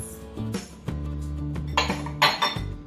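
Clinks of eggs against a mixing bowl as two eggs go in for homemade biscuits, several sharp clinks and taps over a soft background tone.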